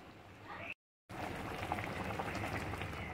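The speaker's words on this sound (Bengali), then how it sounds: "এবার একটু ফুটতে দেবো।" Tilapia fish curry with mustard bubbling in a pot, a soft continuous simmering and popping, faint and close, broken by a brief gap of silence.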